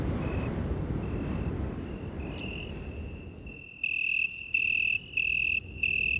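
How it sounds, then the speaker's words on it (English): Crickets chirp at night along the Rhine river, faint at first over a windy rumble, then loud, shrill pulsing trills close by. "The chirping sounds of crickets fills the night air."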